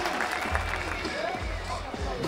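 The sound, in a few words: crowd cheering at a BMX spine final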